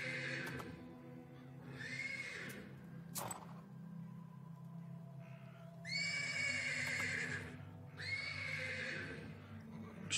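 A horse in a video game whinnies several times, with long, high neighs rising over a low, steady background drone and no talking.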